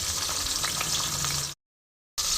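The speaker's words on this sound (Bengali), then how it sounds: "আমি একটা একটা করে মাছ ভেজে নিচ্ছি কড়াইয়ে।" Whole fish, a fairly large chara pona, frying one piece at a time in oil in a wok, giving a steady close hiss and crackle that breaks off into silence partway through, then resumes.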